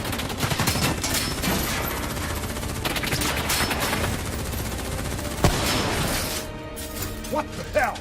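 Heavy, continuous gunfire in the Call of Duty: Black Ops III video game, dense automatic bursts and impacts filling the whole stretch, with shouting voices mixed in underneath.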